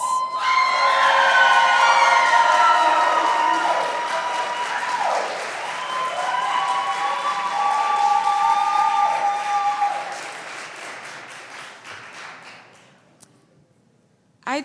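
A crowd at a youth entrepreneurship challenge claps and cheers in a loud, dense burst of applause with scattered shouts, sustained for about ten seconds before thinning out and fading to near silence.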